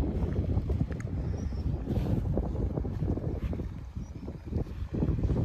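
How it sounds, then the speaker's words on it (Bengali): Wind gusting outdoors on a cold, foggy winter day, a loud continuous rumbling buffet across the microphone with no speech. "হাওয়া দিচ্ছে দেখো কিরকম"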